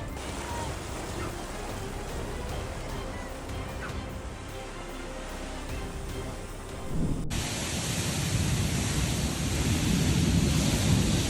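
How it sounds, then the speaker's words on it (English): Steady broadband roar of heavy rain with gusting wind in Louisiana, growing louder and denser partway through, with no voices. "Strong winds and heavy rain battered parts of Louisiana."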